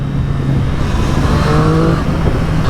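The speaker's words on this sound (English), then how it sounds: "This motor, it's a 3-cylinder, but yet it's deep. It's a really deep sound." Close, loud engine note from a 2024 Triumph Street Triple R three-cylinder motorcycle, a deep steady drone rising slightly as it revs, with no voices.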